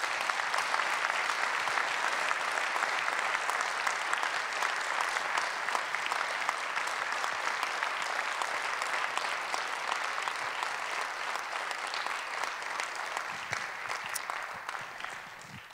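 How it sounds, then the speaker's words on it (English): An audience at a conference plenary session applauds, steady dense clapping from a large hall at moderate distance that continues for about fifteen seconds and then fades away. "So please, a round of applause for our colleagues."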